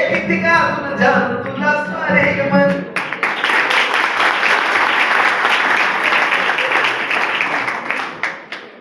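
An audience at a student drama performance bursts into sustained applause after some talk, the clapping dense and loud, holding steady for several seconds before tapering off.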